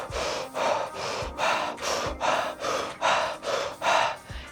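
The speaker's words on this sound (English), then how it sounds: "it's just a short inhale and exhale through the mouth like this" Breath of fire: a series of about nine short, rapid, forceful breaths through the mouth in an even rhythm, each a loud airy burst, close and with no talk.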